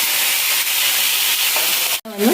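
Fish masala frying in a pan over a medium flame, a steady loud sizzling hiss that drops out briefly near the end before crackling oil spits return.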